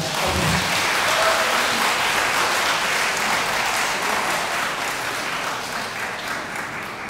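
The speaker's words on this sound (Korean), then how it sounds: "하객 여러분들께서는 신랑 식구에게 뜨거운 박수 부탁드립니다." Wedding guests at a wedding hall in Yesan, South Korea, applaud together in a dense, sustained round of clapping that slowly fades.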